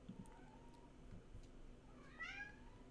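A pet cat gives a single faint meow in a quiet room, with a soft rising and falling call near the end and no talking.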